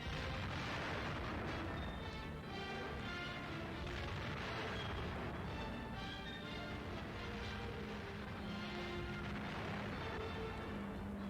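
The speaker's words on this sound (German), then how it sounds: "Kampfflugzeuge zerschlagen die letzten Bunker vor der Stadt." Heavy bombing of bunkers outside Novorossiysk by WWII bomber aircraft, heard as a dense, continuous roar of explosions and rumbling blasts in old, harsh-sounding newsreel audio.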